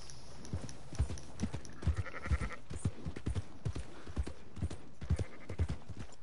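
A horse's hooves clip-clop in Red Dead Redemption 2 as a steady, even walking rhythm of moderate hoof strikes, each one distinct and fairly close.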